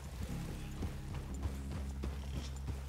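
Horses in Red Dead Redemption 2 clop along at a steady walk, hooves thudding close and moderately loud against a low game ambience, with no talking.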